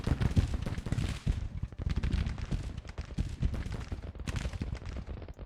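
Musket volleys from a Civil War battle in a strategy video game, a continuous rattle of scattered shots and crackling fire that rises and falls in dense bursts throughout.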